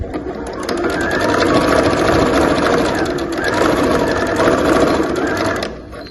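Sewing machine backstitching to finish the lining of a fabric multipurpose pouch, a loud, close, continuous rapid clatter of the needle mechanism lasting several seconds before it stops.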